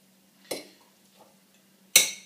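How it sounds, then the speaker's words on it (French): Two sharp metallic scrapes of a spoon against a saucepan while stirring pasta, about a second and a half apart, close and fairly loud with quiet between. "remuer dans la casserole"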